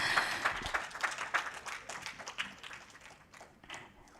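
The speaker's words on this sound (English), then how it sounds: "big round of applause" An audience claps at a certificate felicitation, a patter of applause that starts fairly full and thins and fades toward the end, without talk.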